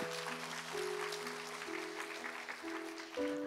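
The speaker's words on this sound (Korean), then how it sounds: "박수해 주십시오" A church congregation at a Sunday morning service claps in a soft, continuous patter while sustained organ-like tones hold and shift underneath.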